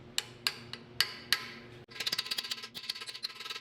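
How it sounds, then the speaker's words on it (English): A hammer strikes a freeze plug installation tool, seating a freeze plug into an engine block during an AMC Rebel SST engine rebuild: four separate, sharp metallic taps, then a quicker run of lighter taps. "get your freeze plug installation tool and your freeze plug installation hammer"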